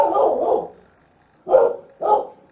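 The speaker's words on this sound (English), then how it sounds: "Guard dog." Guard dog barking, three loud, close barks: a long double bark first, then a pause, then two short ones in quick succession.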